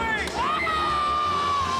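A crowd at a dojo screams and cheers in one sustained roar, loud and close, with high whoops and shouts rising and sliding over the dense wall of voices.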